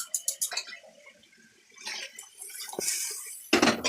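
Water poured into a cooking pot while making a home meal, with a few clinks of metal cookware first, then a soft watery splash and a louder close splash at the end.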